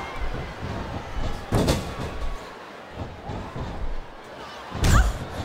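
In a WWE video game TLC match, a wrestler is slammed onto a wooden table, giving two heavy thuds a few seconds apart over a low arena murmur.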